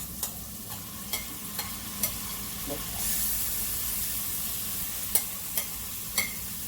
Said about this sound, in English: Now I'm gonna add the ackee.